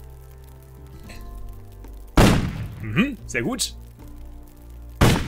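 Gunshots in the video game Risen 2 Dark Waters, with two sharp, loud bursts landing a few seconds apart over a low game background, and someone speaking briefly between them.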